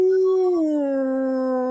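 A person's voice imitates a wolf howl, a single drawn-out, slightly falling tone that holds steady and loud for nearly two seconds.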